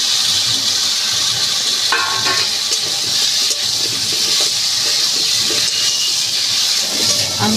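Water splashes into a pan of frying spices for a thin bhetki fish curry with yam, setting off a loud, continuous close hiss and bubbling sizzle that holds steady throughout.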